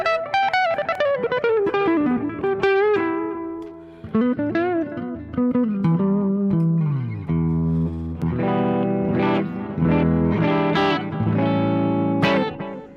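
A Gibson SG electric guitar plays a solo through effects pedals, with distorted, chorused tones: fast melodic runs early on, then fuller, heavier strummed chords, loud and upfront throughout.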